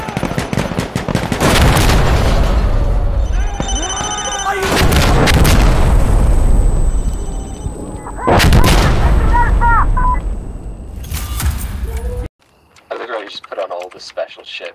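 Gunfire in the video game Insurgency Sandstorm: loud, close bursts of rifle and machine-gun fire crack and boom in several sustained volleys, then cut out abruptly near the end, with some talk mixed in.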